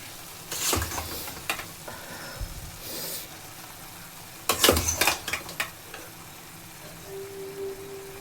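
Basmati rice for a pulao is tipped into a hot pan and stirred, giving bursts of scraping and clattering over a low sizzle, with quieter gaps between strokes.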